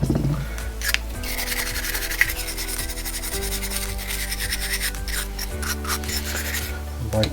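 A small brass wire brush scrubs the corroded aluminium edges of a motorcycle brake master cylinder on an 80s RD 350 LC, a steady close rasping scrub in repeated strokes that continues throughout.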